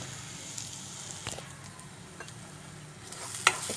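Ingredients for a ginger broth sizzle softly in a pan, a faint steady frying hiss with a few light clinks of stirring near the end.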